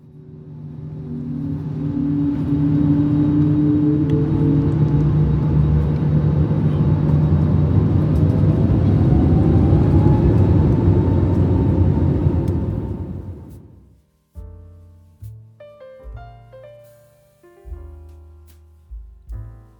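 Inside the economy cabin of a China Airlines airliner taxiing toward takeoff, a steady loud engine roar and rumble with rising whine fills most of the clip, then cuts off abruptly near the end, leaving faint intermittent tonal sounds.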